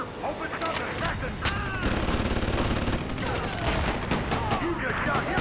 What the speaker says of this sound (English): You just shot him in the face.